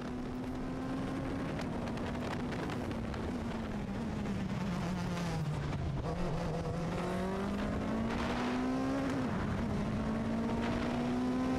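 Onboard a V de V endurance race car at the start at Motorland, the engine drones loudly and steadily, pitch climbing through gears with brief dips at shifts, other cars audible around it.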